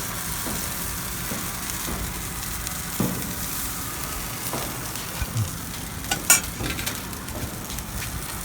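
Paneer tikka sizzles steadily on a hot tawa, a constant close frying hiss with a few soft clicks and knocks of a utensil as the pieces are turned.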